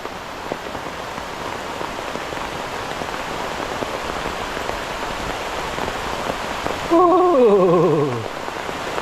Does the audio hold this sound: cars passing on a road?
no